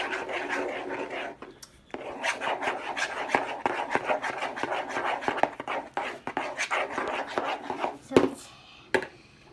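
Homemade slime is mixed by hand in a bowl, giving a dense run of close, wet rubbing and squishing strokes with brief pauses, and a few words spoken over it.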